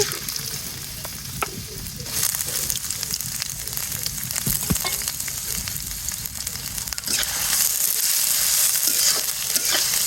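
Chopped onions frying in hot oil in a wok for beef tripe curry: a steady, close sizzle with occasional stirring clicks that grows louder and brighter toward the end.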